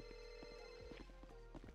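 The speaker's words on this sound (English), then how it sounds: "There's a phone ringing." A telephone rings faintly in a GTA V roleplay scene, a repeated bell-like trill buried under a dense, loud background hum with scattered thumps.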